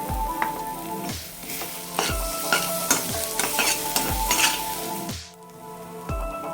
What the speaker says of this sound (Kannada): ಚಿಕನ್ ಸ್ವಲ್ಪ ಫ್ರೈ ಆದ ನಂತರ ಒಂದು ಮೊಟ್ಟೆ ಹಾಕ್ಕೊಳ್ಳೋಣ. ಹಾಕ್ಕೊಂಡು ಫ್ರೈ ಮಾಡೋಣ.